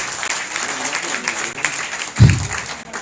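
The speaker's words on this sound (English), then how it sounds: "Please, a round of applause." Applause from an audience at a university inter-faculty debate during a convocation, a steady wash of clapping throughout with a louder burst near the end.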